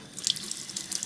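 Tap water runs in a short, steady trickle with a few soft splashes while a stained doll is being cleaned, close and fairly quiet with no talking.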